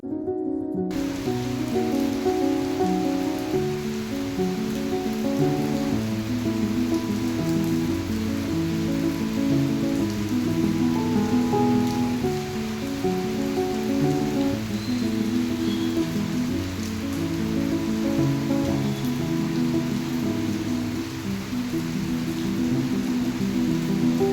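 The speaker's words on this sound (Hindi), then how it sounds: "बारिश तो देख ही रहे हो आप, बारिश यहाँ पर ख़तरनाक होती है" Steady, dense monsoon rainfall pours without pause in Singrauli, India, a continuous wash of drops drumming on surfaces close by, with no voices.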